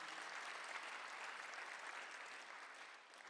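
Church congregation clapping during a Sunday afternoon worship service, a faint, steady wash of applause heard from a distance that fades slightly toward the end.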